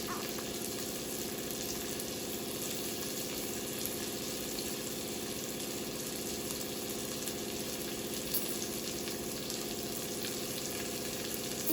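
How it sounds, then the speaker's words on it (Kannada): Whole spices such as cinnamon sticks frying in oil for a mutton leg soup, a steady soft sizzle and crackle holding evenly throughout with no voices. "ಎರಡು ಚಕ್ಕೆ ಚಕ್ಕೆ ಹಾಕೋಬೇಕು ಇವೆಲ್ಲ ಕ್ಲೀನಾಗಿ ಫ್ರೈ ಮಾಡ್ಕೋಬೇಕು"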